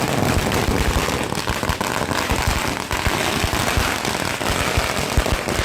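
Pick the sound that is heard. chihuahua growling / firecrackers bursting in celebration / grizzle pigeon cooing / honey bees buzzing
firecrackers bursting in celebration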